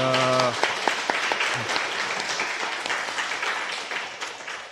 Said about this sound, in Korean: 박수 한번 쳐줍시다.